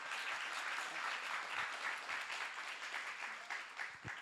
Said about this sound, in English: a big round of applause for Alex, everybody.